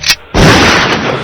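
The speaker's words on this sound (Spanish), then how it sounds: "Lo que se escuchan son tiros de verdad" Real gunfire: a sharp loud blast followed by a dense, sustained crackling roar of shots lasting about a second.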